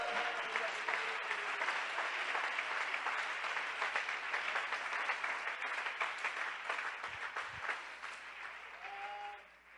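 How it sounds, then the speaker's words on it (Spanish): Sustained applause from a church audience fills the space, steady and dense for most of the stretch before tapering off, with a faint tone of music or organ near the end. "Denle ese aplauso al Rey de Gloria."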